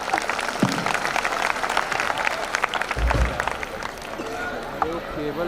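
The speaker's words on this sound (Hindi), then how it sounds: "जोरदार तालियां हो जाए" Audience applause at an Independence Day celebration, dense and steady clapping from a crowd that holds at a fairly even level throughout, with some background crowd noise mixed in.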